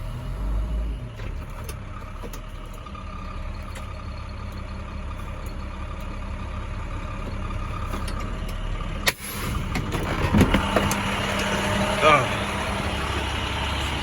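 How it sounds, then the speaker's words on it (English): A 26-foot box truck idles and rumbles nearby, its engine building as it backs up onto loading ramps at a loading dock, with a sharp clunk near the middle and people talking over the steady engine drone. "once I pull up, he would then put the ramps behind my tires, and then I'll back up on it."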